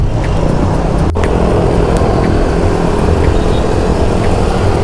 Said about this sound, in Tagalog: ang BGC, ganito ka-traffic pag weekdays.